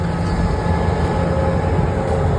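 A train on a Montenegro rail journey slows toward a station, its steady, loud rumble and low mechanical drone filling the space without any talking.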